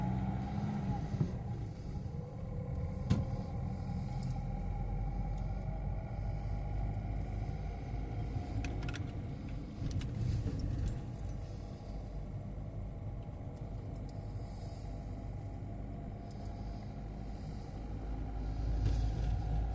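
Steady road traffic rolls past in a continuous low rumble of engines and tyres, moderately loud, with no pause throughout.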